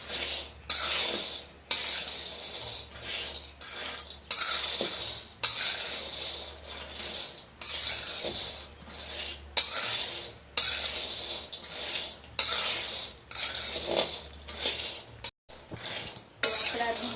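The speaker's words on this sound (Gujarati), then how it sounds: "આપણે રીસકલી સુધી આપણે બીને શેકાવા દઈશું" Seeds roasting in a dry pan for mandvi pak while being stirred, with repeated close scraping and rattling strokes in an uneven rhythm, loud and alone.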